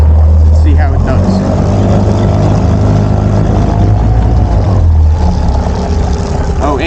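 A homemade speedboat fitted with a four-blade, 10-pitch propeller runs on open water, its engine a steady, loud drone with rushing hull and water noise throughout, and a voice is faintly heard over it.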